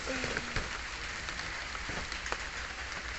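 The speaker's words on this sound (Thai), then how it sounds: "โอ้ยฝนตกฝนตกฝนตก" Light rain falling in a small home garden gives a faint, even patter with a few sharper drips, heard close and quiet with no voices over it.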